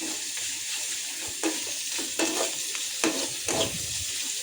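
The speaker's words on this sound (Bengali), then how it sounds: "আর পেঁয়াজ কাঁচা মজা লাগবে না, তাই আমি ভেজে নিচ্ছি" Onions and mushrooms frying in a pan give a steady, close sizzle, broken now and then by stirring scrapes.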